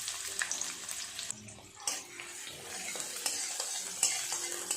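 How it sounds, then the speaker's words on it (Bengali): Chopped onions hit hot oil in a wok and fry with a steady crackling sizzle, broken by scraping stir strokes and a few sharper clicks of the spatula against the pan. "তেল গরম হয়ে গেছে, প্রথমে দিয়ে দেব পেঁয়াজ কুচি।"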